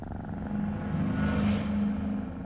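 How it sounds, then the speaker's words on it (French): A cat's soft, low purr rumbles steadily for a couple of seconds, close and quiet, with no voices. "Et ces ronronnements, c'est forcément de l'amour, non?"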